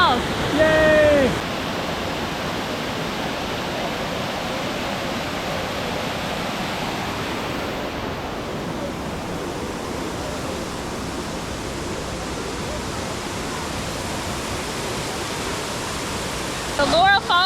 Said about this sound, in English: The Laurel Falls is an 80-foot waterfall.